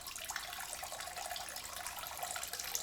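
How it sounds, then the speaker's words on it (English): Someone urinating into a bathroom toilet, a faint, steady trickling stream heard from a distance, like water being poured into a cup, with no voices over it. "I just listened to someone urinate in the bathroom"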